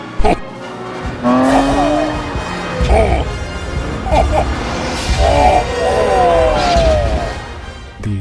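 Tires squeal repeatedly as cars race during the chase in the film Ronin, with engine roar, impacts and whooshes, while people talk over it.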